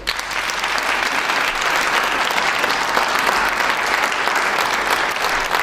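Sustained audience applause greeting elected officials, Chairman Jason Irvin and Vice Mayor Walter Burnett, at a one-year anniversary event, a dense, steady wash of clapping that stays loud and even throughout.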